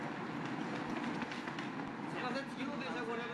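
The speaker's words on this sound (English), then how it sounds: "And this is a Tokyo Line train. It's a rapid commuter express." A rapid commuter express train in Tokyo rumbles steadily with continuous rail noise and faint clatter, with a speaking voice over it.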